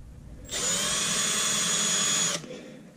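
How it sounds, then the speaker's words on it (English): A power drill whirs loudly for about two seconds at a steady high pitch, starting and stopping abruptly against a quiet background, drilling mounting holes while installing a digital dash in a 1982-92 third-generation Camaro. "Kind of start drilling the holes"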